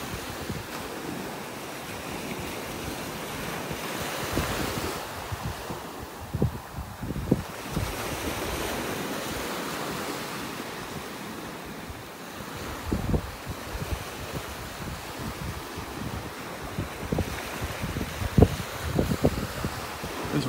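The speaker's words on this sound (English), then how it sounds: "The waves breaking and nothing here in this area, and then the waves start breaking up here." Waves breaking on a sandbar at a beach in North Naples, Florida, a constant wash of surf with heavy wind buffeting the microphone and occasional louder crashes and thumps, with no voices.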